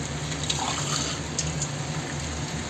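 Water pouring steadily into a pan of chicken curry with leg pieces, a continuous close splashing trickle over a faint background hum.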